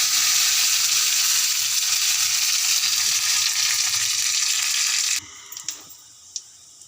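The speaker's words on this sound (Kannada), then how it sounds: "ಇವಾಗ ನಾನು ಸಾಸಿವೆಯನ್ನು ಹಾಕ್ತಾಯಿದ್ದೀನಿ. ಚಟಪಟ ಅಂದಮೇಲೆ ಈಗ ಹಸಿಮೆಣ್ಸಿನ್ಕಾಯಿ, ಮೆಣಸಿನ್ಕಾಯಿ." Mustard seeds and green chillies hit hot oil, giving a loud, dense, steady sizzle for about five seconds before it cuts off to a few sharp clicks and pops, close up with no talking.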